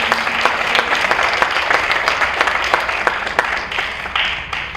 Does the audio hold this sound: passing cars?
no